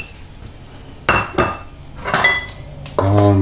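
Salt and sugar get mixed into flour for homemade naan, with a utensil knocking and clinking against a bowl in a few separate bursts and a louder scrape near the end, all close and without speech.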